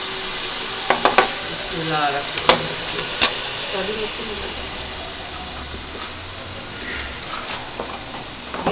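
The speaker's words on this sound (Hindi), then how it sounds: "इसको फ्राई करना है तेल" Food frying in hot oil for a macaroni dish, a steady close sizzle with a few sharp pops and stirring clatters near the start, under brief quiet speech.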